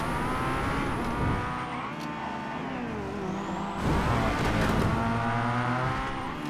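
A car races through a chase in GTA V, its engine droning loud and steady with rising revs and faint tire squeal, continuous throughout with no speech.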